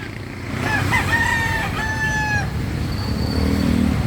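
A native chicken rooster crows close and loud, one long cock-a-doodle-doo with a rising then held call, against a busy market background murmur.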